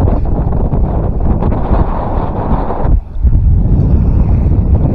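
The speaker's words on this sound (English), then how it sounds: "But this is the wind we're getting all day" Strong wind roars steadily across the microphone aboard a long-keeled sailboat under main and jib at sea in summer gale conditions off Menorca, loud and continuous with a brief dip before gusting back.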